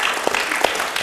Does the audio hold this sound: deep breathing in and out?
no